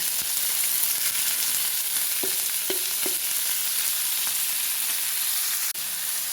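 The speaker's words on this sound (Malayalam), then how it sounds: "നമ്മൾ കഴുകിയപ്പോഴുള്ള ആ ഒരു വെള്ളമല്ലോ അതാണൊന്ന് വറ്റുമ്പോൾ ഒരു ശബ്ദം കേൾക്കണത് കേട്ടോ" Drumstick flowers frying in a pan with curry leaves as leftover washing water boils off, giving a steady close hiss of sizzling with a few soft stirring knocks and no talking.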